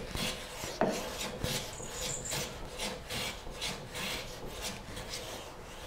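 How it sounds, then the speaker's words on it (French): A Rali 220 hand plane shaves wood in repeated rasping strokes, each a short scraping swipe with a few small clicks between them. The strokes are close and moderately loud, with no talking. "je vais passer le rabot en venant par ici"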